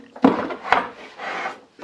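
Dust collector hose being cut in a carpenter's workshop, a few short scraping, rasping cuts with small knocks between them, close by and fairly quiet.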